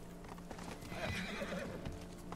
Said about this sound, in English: This horse be teleporting.